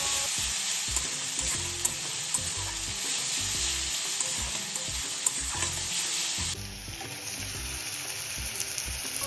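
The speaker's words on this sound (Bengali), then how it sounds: "পেঁয়াজটাকে কুচিয়ে তেলের মধ্যে দিয়ে দিলাম" Chopped onion frying in oil with garlic and ginger paste, a continuous crackling sizzle with stirring scrapes, the sizzle easing slightly near the end.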